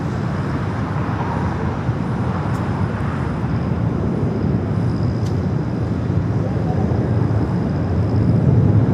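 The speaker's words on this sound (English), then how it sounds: "Delta Airlines 2606 taking off to Seattle on the 737-800 in the Sky Team livery." A Delta Boeing 737-800 in SkyTeam livery takes off from runway 24 left at LAX, a steady, loud, broad jet roar that holds throughout and swells slightly at the end, with a voice faintly under it.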